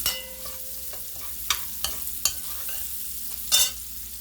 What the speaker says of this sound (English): Let it fry down with some onions, with some vegetable oil.